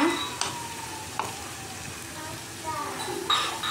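Bitter gourd curry bubbling and sizzling steadily in a pan, with a few sharp clinks of a spoon against the pan, heard close up with no talk.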